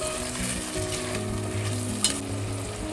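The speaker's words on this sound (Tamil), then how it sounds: "வெறும் மட்டன் பீசஸ் மட்டும் ஆட் பண்ணி நல்லா வதக்கிக்கலாம்" Mutton pieces sauté in ghee in a pan for yakhni pulao, a steady loud sizzle with continuous stirring and one brief clatter, close up and without any voice.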